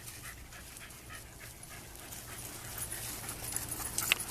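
A Doberman panting and whimpering, soft rapid breathy panting with faint whines, fairly quiet and close, growing slightly louder toward the end.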